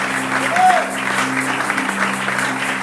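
Church congregation applauding and cheering during a worship service, a steady wash of clapping with a sustained musical tone underneath, moderately loud and continuous throughout.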